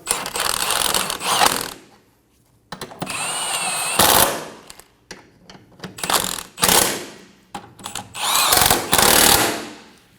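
Power tool, likely a ratchet or impact-style driver, snugging control arm bracket bolts on a 2008-2015 Scion xB front suspension; several loud bursts of whirring and ratcheting separated by short pauses and clanks, close up, with no talking.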